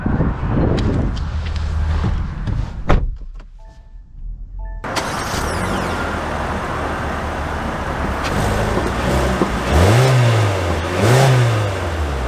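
A 2024 Kia Seltos on the move: steady engine and road drone, a brief door or window mechanism sound early on, then the engine revs rising and falling as it accelerates, loud and close.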